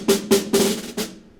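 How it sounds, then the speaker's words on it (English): A snare drum is hit with a drumstick four times in an uneven rhythm. Each hit is loud and close, with a crisp, rattling decay and no voices. "The first one here is a snare drum."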